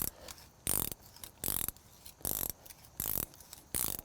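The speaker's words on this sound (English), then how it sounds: "Just gonna use a ratchet and do this by hand." Hand ratchet tightening a bolt on a replacement deck post set on a concrete footing; five loud, close bursts of rapid clicking, each lasting about half a second, separated by short quiet pauses.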